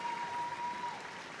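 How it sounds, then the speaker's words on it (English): Crowd at the Crufts dog show cheering for the utility group, a faint, far-off wash of applause lasting only a moment. "big cheer as it's utility day"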